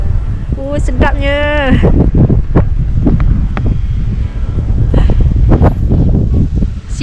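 Wind blowing outdoors in snow, a loud steady rush and buffeting against the microphone throughout, with people talking over it.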